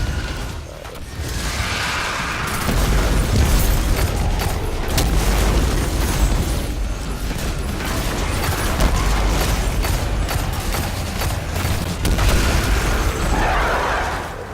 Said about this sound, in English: Grenade. Hopefully that takes it out.